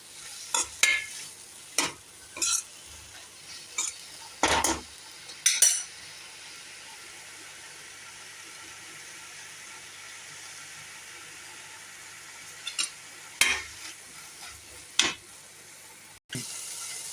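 Mushrooms being stirred and sautéed in a pan for a mushroom pepper fry, with repeated sharp utensil scrapes and clacks coming in bursts over a steady low sizzle, close and fairly loud.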